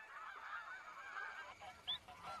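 Canada geese honking, a few clear nasal calls over a low outdoor background, with one louder, sharper honk near the end.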